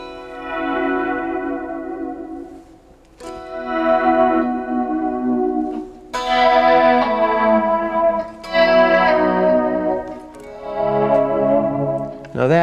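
Sustained electric guitar notes swell and ring out in layered phrases, washed in echoing delay and spacious reverb, with no voices.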